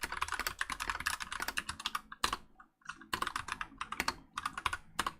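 Typing on a Royal Kludge mechanical keyboard with Cherry MX Brown switches, with rapid, close clicking keystrokes in quick bursts, a short pause, then more typing.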